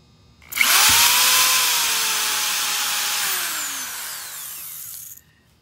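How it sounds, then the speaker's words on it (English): A power drill revs up and bores into cast resin continuously for about four seconds at close range before cutting off. "we're gonna drill down here."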